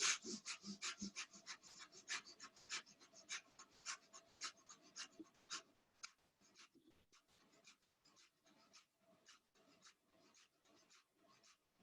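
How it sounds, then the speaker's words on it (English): A person does Bhastrika yoga breathing, a rapid train of forceful, rhythmic breaths, close and steady at first, then growing softer and less regular toward the end. No one speaks. "Bhastrika, breathing fast."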